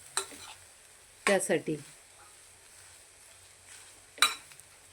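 Semolina and grated coconut being dry-roasted over a low flame in a pan, stirred with a few scraping spoon strokes and light sizzling, with someone briefly speaking.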